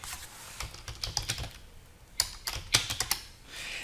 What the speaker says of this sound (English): So I'm going to type config T,